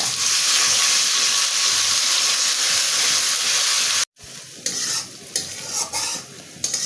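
Ginger garlic paste sizzling and frying with browned onions in a pan, loud continuous hissing for about four seconds, then a brief break and softer, uneven sizzles with stirring scrapes.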